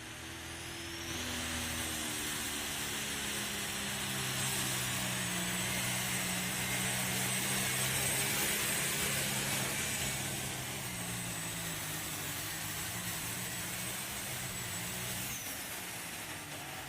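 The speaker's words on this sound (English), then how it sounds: "Here comes your number one tractor in points." Pulling tractor engine roaring at a tractor pull, a loud, sustained high-revving drone that builds and holds for most of the run before easing slightly toward the end, with no talk over it.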